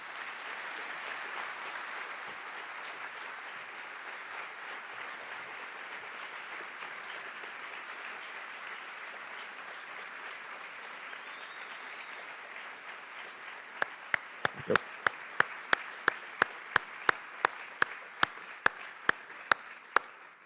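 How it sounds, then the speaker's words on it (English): Sustained audience applause follows a speech on sustainable development and Asia's economy, a steady dense wash of clapping throughout, with a run of sharp, evenly spaced clicks near the end. "I think you can hear from that applause just how much people appreciated the comments that you made"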